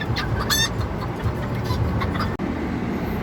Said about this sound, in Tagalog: Iwalay muna natin tong tandang na to na si Thunder.